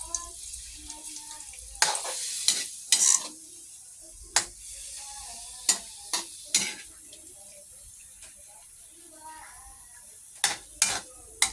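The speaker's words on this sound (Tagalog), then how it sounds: "Nilagay na po niya ang pork meat. Kanyang hahalu-haluin." Pork meat for dinuguan stirred in a pan, with repeated sharp metallic scrapes and clinks of a utensil against the pan over a faint sizzle, and occasional speech in between.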